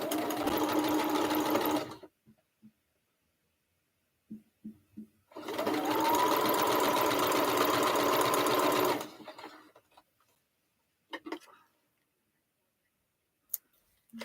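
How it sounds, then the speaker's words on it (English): A sewing machine runs a quarter-inch seam on a quilt block in two long, loud, steady bursts separated by a pause, followed by a few brief clicks and short whirs. "And I'll do my 1/4 inch seam."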